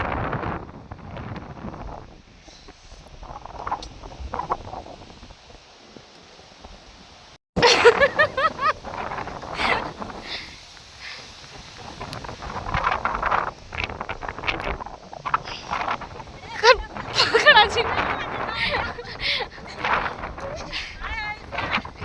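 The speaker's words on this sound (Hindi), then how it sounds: "तो हवा चल रही है" Gusty wind buffets the microphone outdoors, rising and falling, while several people talk and laugh throughout.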